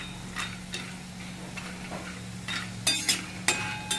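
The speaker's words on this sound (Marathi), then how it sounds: "अगदी थोड्या तेलामध्ये हे एकदम मस्त तळल्या जातात बघा" Sandge, dried dumplings, frying in a small amount of oil while being stirred: a soft low sizzle with repeated sharp scraping and clicking strokes of a spoon against the pan, quiet and close, with no talk.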